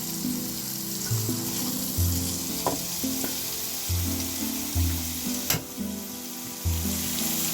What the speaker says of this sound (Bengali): এখন হচ্ছে এগুলো ভেজে নেব চলুন সাথে তোমরা এক এক করে হচ্ছে বেগুনগুলো দিয়ে নিচ্ছি